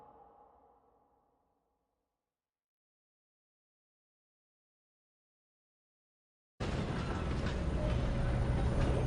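Red Dead Redemption 2 train running on rails, heard as a sudden loud, steady rumbling roar that cuts in after a long silence, following a faint fading sound at the start.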